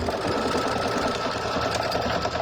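A sewing machine stitches quilting fabric for a table runner, running steadily and loudly without pause, with a dense mechanical whir and rapid needle clatter throughout.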